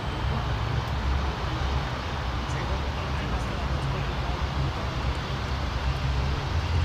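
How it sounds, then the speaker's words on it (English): Jetstar airliner arriving at Sydney Airport from Avalon, a steady broad engine roar heard from a distance, continuous and even throughout with no breaks. "Jetstar just arriving from Avalon."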